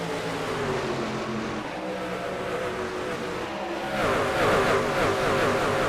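In the iRacing video game, an AREA Truck Series pack roars off the green flag at Phoenix with a dense, continuous wall of engine noise that swells louder near the end as the racing trucks accelerate, with no talk.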